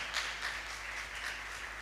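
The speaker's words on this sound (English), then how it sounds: "a round of applause for our panelists." Brief, faint clapping from an audience thanking panelists at an innovation week event in Uganda, soft and somewhat distant.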